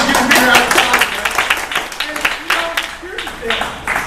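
A live audience at a speaking event claps in a scattered, uneven round of applause that fades over a few seconds, with a voice talking over it.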